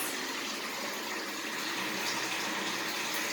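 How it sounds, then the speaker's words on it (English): Water rinses down the walls of a baptismal font in a steady, close, hissing gush that runs continuously without pause, with no voices over it. "So anyway, I just rinse all the walls down."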